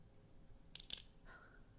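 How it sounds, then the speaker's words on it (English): Metal paper clips snap onto a magnet in a quick pair of sharp, bright clicks close by, followed by a faint brief ring, in an otherwise quiet room. "we saw those paper clips get pulled, get attracted to our magnet very quickly"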